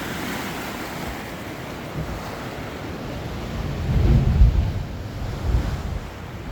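Ocean waves breaking on the rocky Punta Brava shoreline near Ensenada, Baja California, a steady roar of surf with a heavier wash swelling midway, mixed with wind buffeting the microphone.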